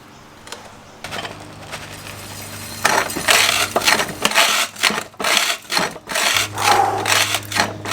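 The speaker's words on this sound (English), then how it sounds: "we're going to run this stuff through and turn the rest of it into dust" A jaw crusher grinding gold ore into dust outdoors, close and loud, with irregular crunching, grinding and rattling bursts over a steady low hum after a quieter start.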